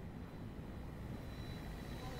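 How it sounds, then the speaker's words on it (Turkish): In a Siren Head video game, an airplane passes fast over the city with a faint, steady broadband roar and no voices. "Aa, şimdi uçak geliyor."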